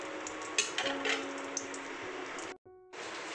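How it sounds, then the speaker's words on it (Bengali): Fried eggplant pieces are lifted out of hot oil in a pan. A steady soft sizzle runs underneath while a few utensil scrapes and light knocks sound close by. The sound cuts out briefly near the end before the sizzle returns. "আমাদের বেগুনগুলো ভাজা হয়ে গেছে, এবার বেগুনগুলোকে আমরা তুলে নেব।"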